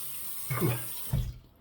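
A short burst of running tap water splashes over a slant safety razor as it is rinsed, two brief close splashes within under two seconds.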